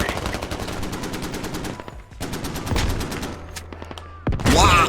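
Gunfire in the video game Squad, rapid bursts of automatic fire broken by short pauses, with a louder close shot near the end and a faint voice underneath.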